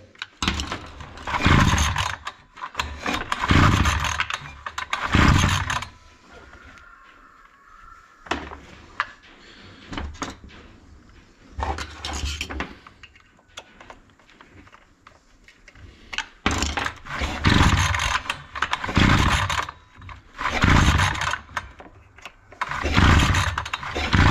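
A Datsu brush cutter engine with an air leak at a loose carburetor mount races at high idle, coming in loud, rough bursts of revving separated by quieter gaps.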